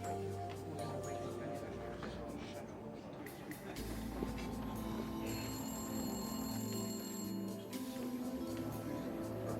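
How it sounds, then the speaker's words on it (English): A telephone bell rings in a hotel bar amid a dense, busy background, the ringing faint and partly masked rather than standing alone. "On cue, the phone rang."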